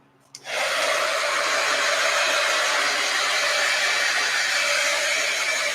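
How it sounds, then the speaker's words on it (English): Heat gun blowing hot air to dry paint on postcards, switching on with a click and a quick rise into a steady, loud, even airflow roar that holds to the end. "Let's hit it with the heat gun."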